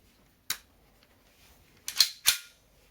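A Baikal MP 659K airsoft pistol, a Kalashnikov-made replica of the PM, fires three sharp, snappy shots. One comes alone, then a quick pair follows about a second and a half later, close and crisp against a quiet background.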